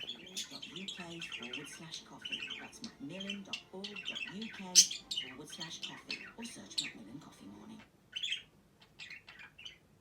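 Small birds chirp and tweet repeatedly nearby, high and busy, mixed with soft squeaky calls that fade toward the end.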